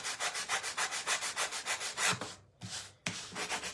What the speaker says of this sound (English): We're just going to sand the edges.